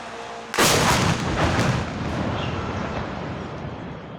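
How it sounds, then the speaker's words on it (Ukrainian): Powerful explosion from a Shahed drone and missile attack on a Ukrainian town: one sudden loud blast followed by a long rolling rumble that slowly fades. "Спершу загрозливе гудіння шехеда, За мить потужні вибухи."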